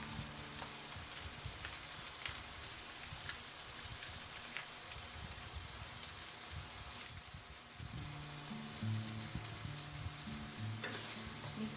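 Spaghetti sauce simmering in a pan, a steady soft sizzle and bubbling crackle that continues throughout, faint and close, with a brief stirring shift partway.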